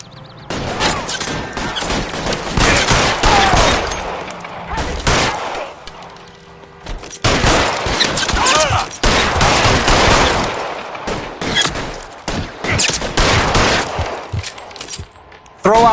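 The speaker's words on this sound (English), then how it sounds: "Fire a warning round." Warning shots fired at a vehicle in a video game, with dense bursts of rapid gunfire and fusillades in several loud clusters separated by brief lulls, close and sharp.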